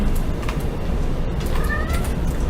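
A kitten meows once or twice, faint and brief, buried in steady loud background noise during a live game stream.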